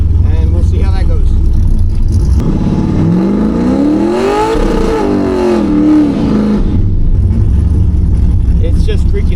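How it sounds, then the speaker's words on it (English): An LS2-swapped El Camino roars loudly at close range as it launches, its engine revving up and then easing back over several seconds while one tire spins, and the V8 drones on steadily throughout. "It's just freaking spinning one tire."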